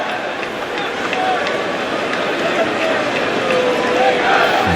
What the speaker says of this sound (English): Crowd boisterous into that stage of the day now.